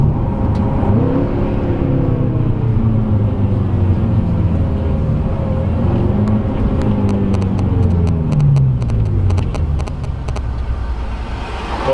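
A 2017 BMW M6 sports car engine drones loud and close throughout, its pitch rising and falling as the car accelerates and shifts, with no talking.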